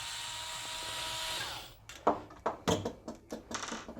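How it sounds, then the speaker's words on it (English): Torx screws being backed out of the projector lens mount inside a Porsche Litronic xenon headlight reflector, a run of short clicking, scraping bursts that follows a steady whirring hum, close up with no talk. "Just remove the screws holding the projector"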